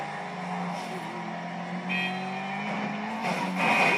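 Car drifting in Grand Theft Auto V with squealing tires, a steady engine drone and sustained tire screech over a few seconds, loud and close.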